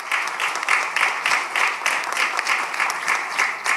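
Sustained applause from a conference audience at the International OIDP Conference at Fábrica do Carvalho, dense steady clapping filling the room without pause.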